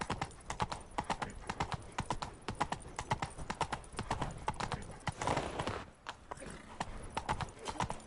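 Roach, the horse in The Witcher 3: Wild Hunt, galloping in a brisk rhythmic run of hoofbeats, close and clear, with a brief whinny midway and some game sound around it.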